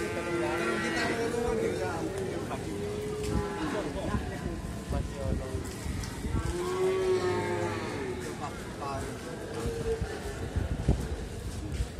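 Cattle lowing at a livestock market in Magelang, several drawn-out moos rising over a busy, noisy background with people talking nearby.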